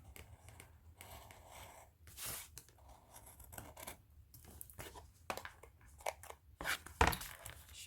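Scissors cut through paper from the inside of a shape, making quiet close crisp snips and sliding rasps in short irregular bursts, faint throughout with no voices.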